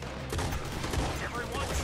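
Gunfire from the video game Red Dead Redemption 2, dense bursts of shots cracking in quick succession through the short stretch.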